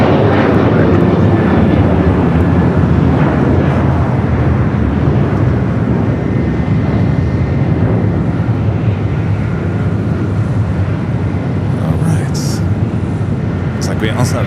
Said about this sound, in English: We also have a United Dreamliner heading down for a south side takeoff